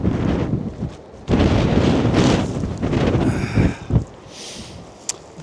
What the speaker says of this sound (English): It's terribly windy up here